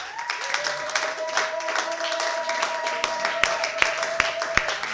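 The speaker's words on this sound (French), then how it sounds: "Tiens-toi debout, acclame très fortement pour la parole." A church congregation applauds and cheers during a worship service, a steady crowd of clapping with sharp individual claps and voices, a sustained tone running underneath.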